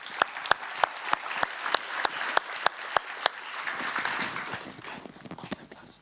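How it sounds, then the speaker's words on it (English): Audience applause at a startup demo day, soft clapping from a crowd, with a few sharp, evenly spaced loud claps standing out in the first half before it thins away. "Please give them a big applause."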